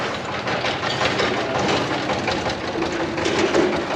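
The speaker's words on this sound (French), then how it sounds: "Une charrette, une moto-charrette." A small motorized cart chugging along a street in Bhaktapur, a steady rattling engine hum close by with continuous busy background noise and no clear voices.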